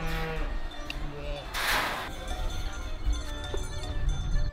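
Cows moo on a mountain farm in a Bucovina village, one drawn-out low call rising mid-clip over steady background noise and faint rural sounds, with brief speech nearby.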